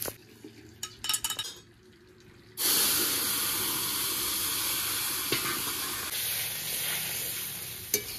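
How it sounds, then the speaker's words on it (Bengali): Cumin seeds dropped into hot oil in a wok: a few light clinks and stirring taps, then a sudden loud, steady sizzle that carries on to the end with occasional utensil knocks. "কিছুটা পরিমাণ জিরে ফোড়নে দিয়ে দিলাম"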